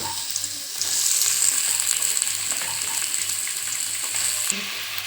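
Two medium chopped onions sizzle and crackle in hot oil for kothu parotta, a steady frying hiss with occasional stirring clicks, close and fairly loud.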